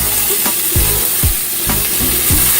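Onions sizzling in hot olive oil in a medium-to-large skillet for spaghetti sauce: a close, loud frying hiss with regular stirring scrapes about every half second, and no talking.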